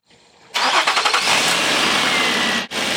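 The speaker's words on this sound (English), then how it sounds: "Let's start the car." A car engine cranks and catches in a workshop during sensor testing, a short rattling burst of starter sound settling at once into a loud, steady idle that carries on with a brief dip near the end.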